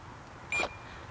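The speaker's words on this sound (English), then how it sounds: "If I hit it again, you get three beeps and that deactivates the alarm system." Brief electronic beep from the alarm system of a 2016 BMW K1600GTL touring motorcycle, a single short tone heard close and fairly loud against quiet background.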